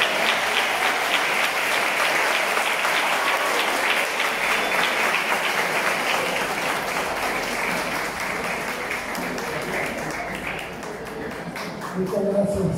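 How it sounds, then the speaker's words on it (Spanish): An audience applauds the poet and writer José Roberto Cea at the inauguration of a mural dedicated to him, with dense, steady clapping that thins toward the end before a brief swell of sound. "Venga ese aplauso"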